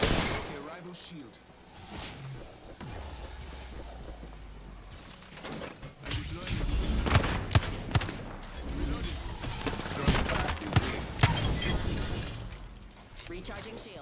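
Gunfire striking an enemy's shield in the game Apex Legends, a burst of sharp shattering impacts and rapid shots from about six seconds on, layered over game noise and a voice.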